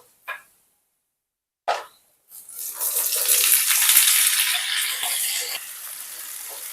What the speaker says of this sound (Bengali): সেই আলু আর কুমড়োটাকে এই তেলের মধ্যে দিয়ে দেবো